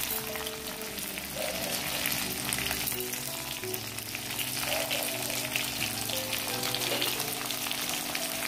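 Urad dal and coriander seeds, along with chillies, fry in hot oil in a pan for Kerala varutharacha chammanthi, giving a steady close sizzle and crackle throughout with no talk.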